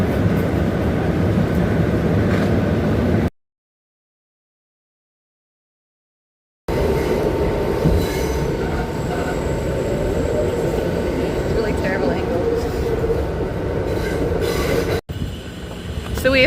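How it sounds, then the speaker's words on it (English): A New York City subway train rumbles loudly along the tracks with metallic wheel squeal, interrupted by a few seconds of silence, then continues rattling and screeching. "So we have survived our very first subway ride in New York City."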